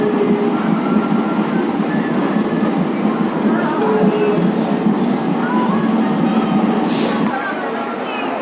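A local EMU commuter train at Ambattur railway station in Chennai gives a steady, close rumble of rolling carriages that holds evenly throughout, easing slightly near the end, with a brief hiss near the close.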